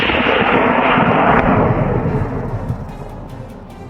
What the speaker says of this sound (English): One clean shot, the boar staggered, stumbled, and dropped to the ground.